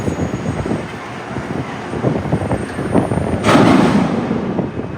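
A crane lowers a shipping container onto a container ship in port, a loud rumbling clatter that builds into a heavy thud and sustained roar near the end.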